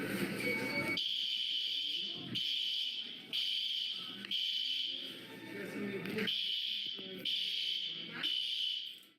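A fire alarm rings in loud, repeated electronic bursts roughly once a second, with a shrill piercing tone and brief gaps between bursts, while shouting and talking carry underneath.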